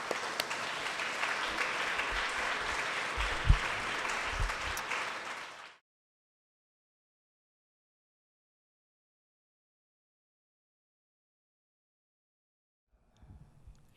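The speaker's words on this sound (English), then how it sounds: "let's give them another round of applause" Audience applause at a Creative Mornings talk in Minneapolis, a dense steady clapping from a crowd for about six seconds that cuts off abruptly, followed by near silence and a faint stir at the end.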